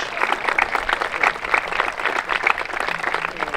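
Audience applause breaks out after a performance by a group of women at a Celtic festival opening ceremony, a steady, dense clapping that rises and falls slightly over a few seconds, heard alone without talk.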